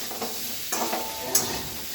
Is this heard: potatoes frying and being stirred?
yes